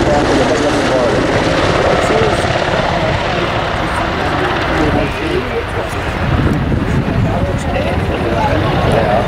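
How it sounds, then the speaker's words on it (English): A British Army Apache helicopter flies low during an air display, its rotor and engine roar loud and unbroken throughout while a commentator talks over it on a public address. "As the aircraft manoeuvres low level, you can see it gives us an opportunity to see the"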